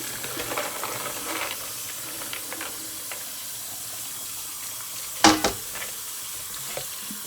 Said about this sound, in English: Now we're just gonna drain them and rinse them off before we put them in the pot.